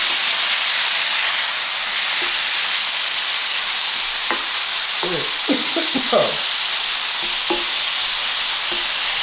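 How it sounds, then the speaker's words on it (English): Teriyaki-style chicken sizzles and fries in a pan, a loud continuous hiss of hot oil with occasional scrapes and knocks from a wooden spoon stirring it. "I'm going to pour it in here. And we're going to start frying that baby up."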